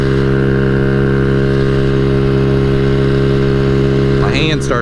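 Custom Honda Ruckus scooter engine running rough while riding downhill, a steady loud droning hum with strong harmonics held throughout, with a brief voice entering near the end.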